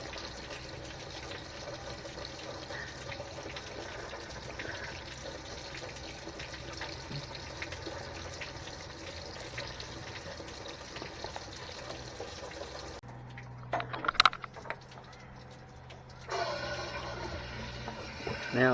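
Engine coolant drains from a Land Rover 300TDI during a flush, a steady trickling and splashing of liquid close by that pauses briefly and then resumes.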